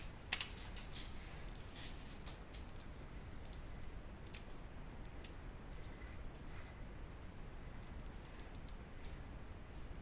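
Computer keyboard keys pressed as shortcuts in After Effects: faint, quiet clicking and typing taps scattered through the stretch, with a light burst near the start, no speech.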